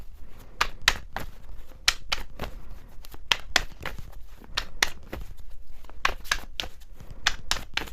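A tarot card deck is shuffled by hand, not on a table, giving a close series of crisp riffling snaps and flicks in an irregular rhythm with no talking.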